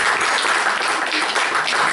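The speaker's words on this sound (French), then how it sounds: "je vous demande de vous applaudir à vous-même" Forum audience applauding in a hall, a short burst of dense, continuous clapping at close range with no voices over it.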